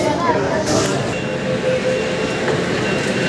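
Kolkata's underwater metro train running, a loud steady rumble and rushing hum filling the space continuously, with a voice talking over it.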